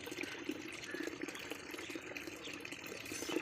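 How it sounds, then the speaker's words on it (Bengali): Water runs steadily from a tap at a neighbour's house in the morning, a continuous, moderately loud gushing with no talking over it. "আর এটা হচ্ছে ছোটো বউদের বাড়ি থেকে জল নিচ্ছি"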